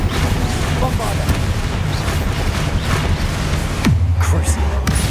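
Booming spell blasts in Hogwarts Legacy combat, a dense, loud barrage of explosive thuds with a heavier low impact near the end, continuous battle noise throughout.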